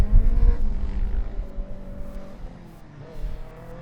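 A Formula Student race car passes a grandstand during an endurance event, its engine loud and close at first, then fading as it moves away, with a brief rise in engine note near the end.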